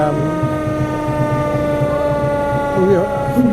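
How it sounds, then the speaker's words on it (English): A steady wailing fire truck siren drones on during a Christmas parade, its rising and falling tones steady and fairly loud, with a low rumble of traffic underneath. "sirens were wailing, and they're coming flashing down the street"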